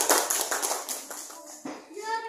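An audience of students claps at a classroom group awards session, a quick burst of applause that fades within a second or two as children's voices take over.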